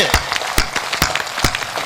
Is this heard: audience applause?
yes